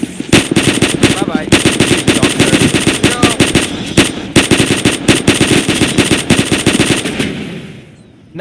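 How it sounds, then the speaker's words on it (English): Rapid automatic gunfire in the Half-Life mod Forget Mesa, loud dense bursts of close shots with brief pauses, over game effects and a player's brief speech, fading out at the end. "Shot the guy!"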